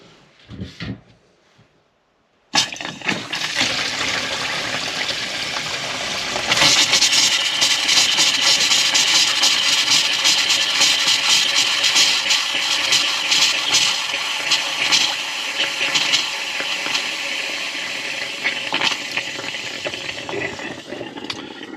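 Water gushes from a caravan's hot water tap as the system is drained down with a homemade kit. After a brief quiet start, a loud, steady rush of flowing water runs unbroken to the end, with no talking.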